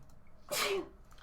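A single sharp sneeze bursts out close by, a quick breathy blast that follows a brief quiet intake and then fades into soft background.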